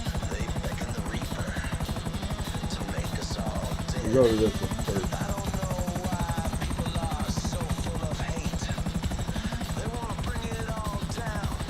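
A helicopter in the video game GTA Online flies with a steady, loud rotor chop and engine whine throughout, while someone speaks briefly over it.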